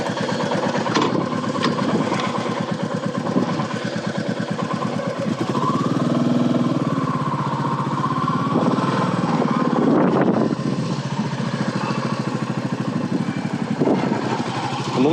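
Motorcycle engine running steadily during a slow-speed practice ride of figure eights, a continuous loud drone with a deep pulsing rumble that rises and falls slightly as throttle shifts, with no talking.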